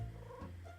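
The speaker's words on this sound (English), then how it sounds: "that was a cat sound!" A cat in a visual novel video game gives a brief, faint, low purr lasting under a second.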